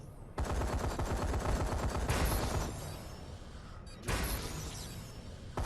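Sustained automatic gunfire in Call of Duty: Advanced Warfare on PS3, a long unbroken rapid-fire burst, then a pause and a second extended burst, loud and close with no talking.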